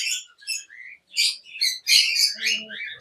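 A cockatiel from a breeding pair gives a series of short, bright chirps and squawky calls close by, separated by brief pauses.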